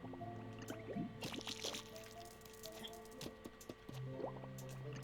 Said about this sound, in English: Oh, that's water.